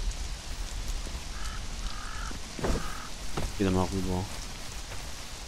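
Rain falling in the video game Conan Exiles, a steady broadband hiss running through the whole scene beneath game tones and bird-like calls, with people talking over it.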